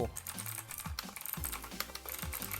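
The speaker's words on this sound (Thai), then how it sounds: "ทีนี้เรามาลองพิมพ์อะไรดู" Fast, steady typing on a computer keyboard, close and clear, with dense rapid key clicks and no speech.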